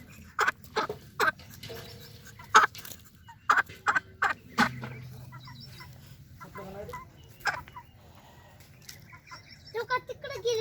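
Chickens cluck in a series of sharp, repeated calls, loud and close at first, then sparser, with some background noise and a low murmur between calls.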